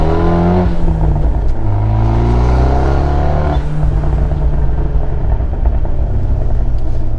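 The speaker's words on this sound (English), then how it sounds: "So kind of the burbles just kind of came back, and I love them." Revving engine and burbling aftermarket exhaust of a Fiat 124 Spider, loud and close, rising and falling in pitch through a few throttle blips before settling into a rumbling burble.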